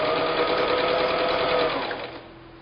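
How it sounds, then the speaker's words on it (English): A sewing machine stitching quilt blocks runs with a loud, steady close whirring hum and rapid needle chatter, then slows and eases off toward the end. "I'm going to pull the thread out of the way and start sewing a little bit."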